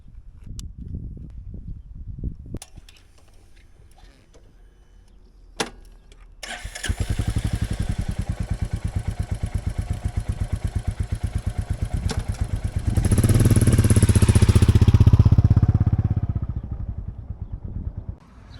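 Royal Enfield Classic 350 single-cylinder motorcycle on a road in Greece, a few clicks before the engine fires into a steady thumping idle, then revs louder as it pulls away and fades slightly at the end.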